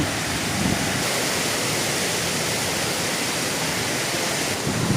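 A steady, loud roar of a forest waterfall fills the whole stretch, broadband and constant, with no voices.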